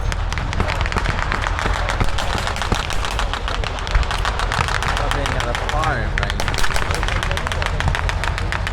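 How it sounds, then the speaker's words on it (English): Two .50-calibre machine guns on an American half-track fire continuous rapid bursts during a WWII battle reenactment at a military show, loud and sustained, with vehicle rumble beneath and a voice talking over the gunfire. "American half-track has two 50-pound machine guns. That's just making the racket as they head towards the Germans."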